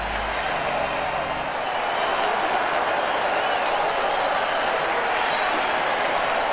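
A video game stadium crowd in Mutant Football League roars and applauds, a broad continuous wash of cheering and clapping that swells slightly partway through and stays loud and close throughout.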